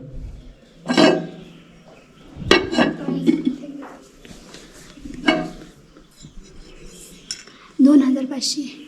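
Clay pots clink and knock as they are picked up and set down, a few distinct handling sounds with quiet voices in the background.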